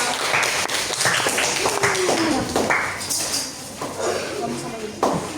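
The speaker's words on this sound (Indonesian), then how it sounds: "Oke, tepuk tangan untuk kelompok 3." Scattered clapping from participants in a coding training class, applauding one group at moderate volume under a presenter's ongoing speech.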